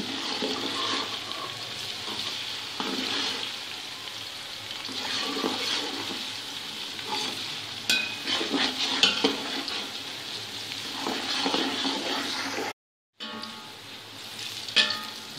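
Onions with ginger garlic paste frying in a pan for aloo dum biryani, a steady close sizzle with stirring scrapes and bubbling throughout, briefly cut out near the end before resuming.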